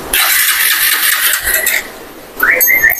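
A Bajaj Pulsar motorcycle with an electrical fault cranks briefly without catching, followed by a short pause and a higher whirring tone.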